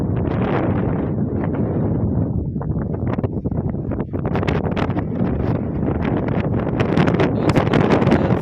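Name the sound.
strong wind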